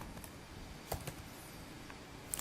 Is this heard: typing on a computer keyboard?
yes